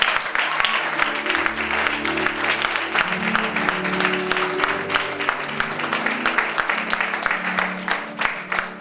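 A church congregation claps steadily and enthusiastically, a dense continuous wash of applause with music and voices running underneath throughout.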